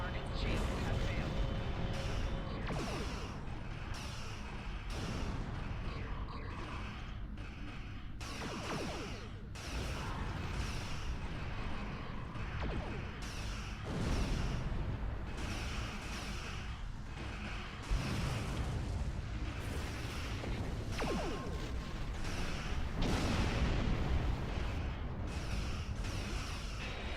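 Starship weapons fire and explosions from space combat against Gorn in Star Trek Online crack and whoosh in frequent bursts, with occasional louder blasts, beneath ongoing talking throughout.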